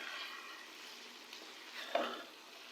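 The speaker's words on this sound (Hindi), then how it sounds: "और अब हम इसे भी मिक्स करेंगे अच्छी तरह से" Chicken karahi with ketchup sizzles quietly in a pan while being mixed, a soft steady frying hiss with a brief scrape near the end.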